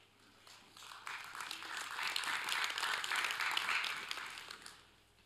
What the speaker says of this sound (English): If you're going to clap, you can't golf clap.